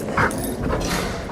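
A muzzled corgi gives a short, close whimper, and softer whines follow over a brief, busy moment.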